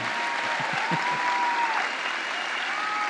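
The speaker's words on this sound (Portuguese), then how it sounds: "Vamos dar uma salva de palmas aí para o Senhor." Church congregation at a celebration service breaking into brisk, dense applause, a short steady burst of many hands clapping together in a reverberant hall.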